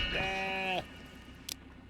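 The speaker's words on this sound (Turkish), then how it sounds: "Minik teker yoktu ya. İki keçi." A single drawn-out goat bleat in the video game Contraband Police, clear and nasal, ends abruptly, followed by a brief soft click against a quiet background.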